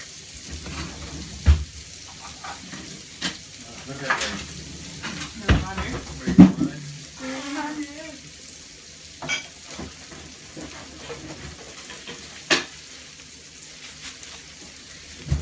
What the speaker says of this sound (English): Gonna give him a bit of a stir.